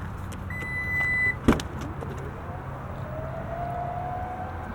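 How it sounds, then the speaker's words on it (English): The power tailgate of a 2025 Toyota Crown Signia opens with a click and a sharp latch thump, followed by a faint, steady electric motor whine as the liftgate rises, set against quiet outdoor background noise. "Let's pop the tailgate here."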